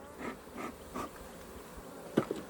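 Honey bees at an opened hive on a rainy day, a soft quiet hum with several faint rising buzzes and one brief closer drone near the end.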